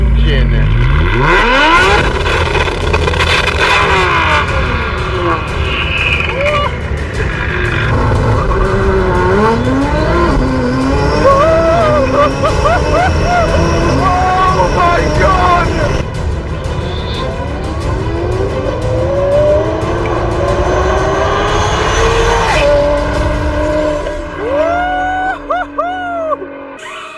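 A Nissan GTR engine revs loud and close, rising and falling through repeated bursts with a throaty roar that fills the whole stretch.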